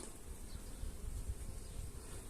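Honeybees building new wax comb in a hive make a faint, continuous low buzzing hum, steady and close, with no voices over it.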